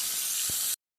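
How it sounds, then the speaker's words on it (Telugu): Soya chunks (meal maker) frying in hot oil in a pan give a loud, bright, steady sizzling hiss with a soft low thump midway, then the sound cuts off abruptly after under a second. "ఇందులో కొంచెం లైట్గా మిల్ మేకర్ వేసుకొని ఫ్రై చేసుకోండి."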